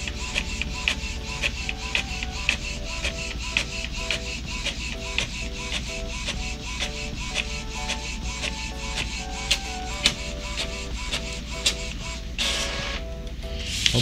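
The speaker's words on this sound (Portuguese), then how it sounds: "Cara, a velocidade da impressora, ela é boa, bicho." An Epson EcoTank L3110 inkjet printer prints with a steady mechanical whir and rapid, regular clicking from the print head and paper feed, close and continuous, ending in a brief change of motor sound near the finish.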